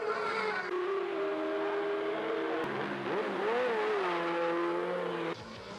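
A racing motorcycle heads out onto the Putnam Park road course during a four-hour endurance race, its engine revving and climbing through gears up close, then the note drops away near the end.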